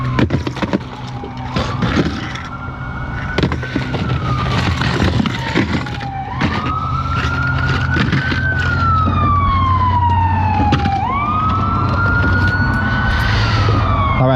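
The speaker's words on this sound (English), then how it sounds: "well, actually that was the ambulance, so hopefully whoever needs the ambulance is okay." An ambulance siren wails past near a lake, its tone sweeping up and down in repeated long cycles, loud and close, over engine and wind noise.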